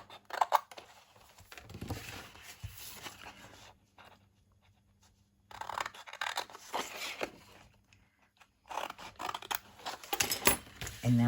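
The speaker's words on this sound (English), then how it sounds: "let's now cut this out so we don't get confused." Scissors cut out a paper box template for storing dies and stickers: close, crisp snipping and scraping in irregular bursts, broken by two quiet pauses.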